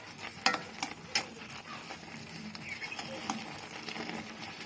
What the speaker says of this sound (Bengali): এটিকে ভালোভাবে আমি নাড়াচাড়া করে নিচ্ছি।